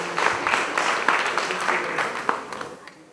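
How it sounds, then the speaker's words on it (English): Audience at a national culture and arts awards ceremony applauding, a short burst of many hands clapping that swells and then tapers off, fairly close. "Let's give her another round of applause"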